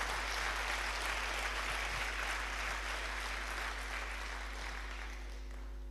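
Conference audience at the DigiWorld Summit 2011 applauding in a large hall, steady sustained clapping from many people that fades slightly toward the end, with a low constant hum underneath.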